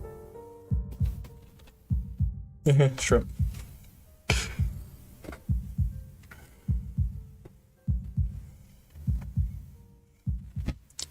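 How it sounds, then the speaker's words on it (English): Steady heartbeat thumps, a regular double-beat pulse repeating throughout, loud and close, with brief bursts of other noise and a spoken word over it. "I listen to the sound of my heartbeat slowing down until it reaches its normal rhythm."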